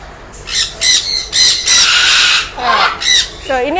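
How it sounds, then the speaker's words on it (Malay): Parrots (cockatoos) at an animal garden squawk loudly and repeatedly, harsh bursts following one another close by, ending in a rising screech. "So ini adalah sebahagian daripada burung kakak tua kita."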